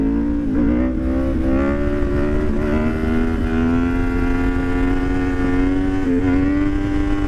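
A Yamaha MT10 motorcycle engine runs loud and close in first gear, holding a steady roar around mid revs with slight wavering rises in pitch as the throttle is worked, no voices present.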